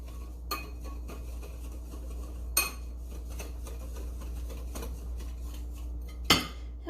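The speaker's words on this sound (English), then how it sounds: "We're going to mix that all together." Utensils clink and scrape in a bowl while spice is mixed into green tomatoes, a few sharper knocks standing out against a low steady hum, no voices.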